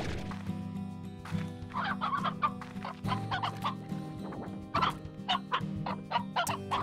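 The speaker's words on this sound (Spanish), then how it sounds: "Gallina." Chickens in the video game Slime Rancher, clucking in repeated short bursts over a steady low background drone, with no talking.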